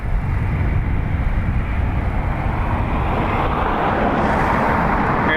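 Airliner rolling for takeoff on runway 10 right at Dublin Airport, a loud, steady broadband engine roar that holds throughout with no talk.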